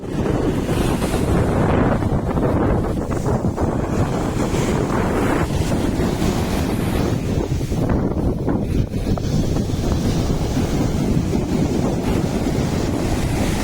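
Heavy sea waves crash steadily on a rocky shore at Chabahar, a loud, continuous roar of surf with strong wind buffeting the microphone throughout and no voices.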